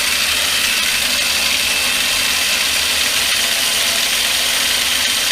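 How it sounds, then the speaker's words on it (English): Gears of a 3D-printed tank track prototype running at speed, a loud, continuous whirring grind at a steady level with no talking. "Boy, those gears are loud."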